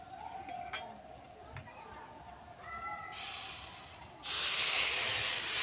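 Water poured into semolina in a hot pan sets off a rising sizzle and steamy hiss that suddenly gets louder and stays loud. A few clinks come before it.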